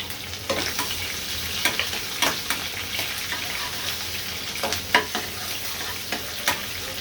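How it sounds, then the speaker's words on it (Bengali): Chopped garlic frying in oil in a pan where chillies were lightly fried just before, giving a continuous close sizzle dotted with frequent small pops and occasional stirring clicks. "আমি মরিচটা হালকা ভেজে নিয়েছি, এখন রসুন দিয়ে দিব।"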